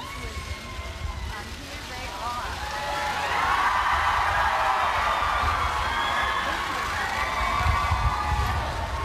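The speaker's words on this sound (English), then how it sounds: "Just listen to the cheers from the crowds." A large outdoor crowd cheers and roars for Prince William and the Duchess as they appear with their newborn royal baby girl, a broad sustained swell of cheering that grows louder midway, with a voice speaking over it.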